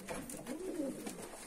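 Pigeons coo softly in a loft, with low, rolling calls repeating throughout, fairly near and steady under faint background noise.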